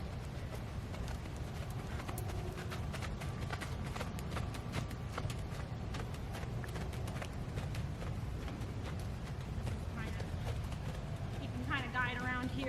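A horse trots on an outdoor ground, its hooves clip-clopping in a quick, steady rhythm, with a voice speaking over the hoofbeats.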